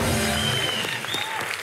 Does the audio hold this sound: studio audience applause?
yes